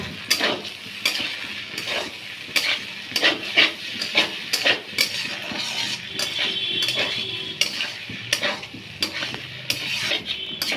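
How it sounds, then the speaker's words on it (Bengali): A utensil stirs shrimp pasta in tomato sauce in a frying pan, giving close, repeated scraping strokes with a steady rhythm over a soft background sizzle. "এবার আমরা এটাকে একটু ভালো করে মিক্স করে নেব"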